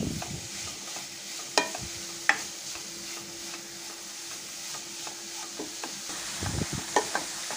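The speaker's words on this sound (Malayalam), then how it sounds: "ഈ നെയ്യ് കിടന്ന് നന്നായിട്ടൊന്ന് വഴന്ന് വരണം കേട്ടോ. അത് എല്ലാ ഭാഗത്തേക്കും നമുക്കിതൊന്ന് മിക്സ് ചെയ്ത് കൊടുക്കാം." Carrot halwa being stirred as it sautés in ghee in a pan: a steady soft sizzle under repeated scraping strokes and a few sharp spoon knocks against the vessel, close up, with no talking.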